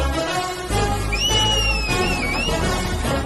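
In an action film scene, a person whistles a short tune that rises and falls for about a second and a half. It sits clearly above a low, steady rumbling background, with no speech.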